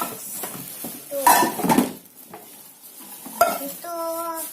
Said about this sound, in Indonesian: Oh ini panci guys.